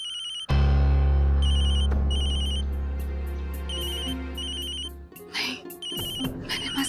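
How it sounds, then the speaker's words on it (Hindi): A telephone rings in repeated electronic trilling bursts, with a loud low hum under it and some background sound. "सुबह किसका फोन है?"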